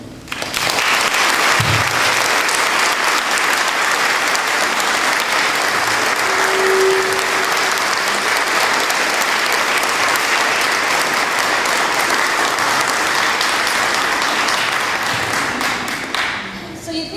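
An audience claps loudly and steadily to welcome Irshad Manji at the Clinton School in 2007, a dense, sustained wave of applause filling the room for over fifteen seconds before tapering off.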